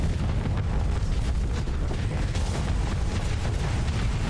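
Weapons barrage in a Starsector space battle, a dense, continuous roar of overlapping blasts and booms sustained loudly throughout with no pauses.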